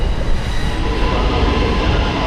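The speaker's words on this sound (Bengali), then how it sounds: "পুরো ট্রেন হচ্ছে খালি, কারণ এখন ইফতারের ট্রেন।" A nearly empty iftar-time passenger train runs near Lahore, a loud continuous rumble of wheels on track with a steady rolling roar and no voices.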